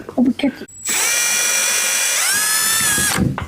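A power drill whines up and spins steadily for about two seconds while boring a 1/8 inch hole in a plastic 5-gallon bucket, then winds down, close and loud with brief handling noises around it.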